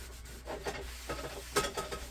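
A teaspoon of oil being rubbed into a cast iron pan, giving soft scraping and swishing strokes in uneven bursts, close and fairly quiet.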